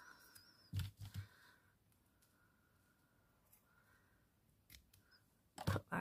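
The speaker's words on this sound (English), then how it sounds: "Cut that extra off." Scissors snipping off excess material while making a floral teddy bear headband, a few sharp close cuts in two small bursts separated by quiet handling noise.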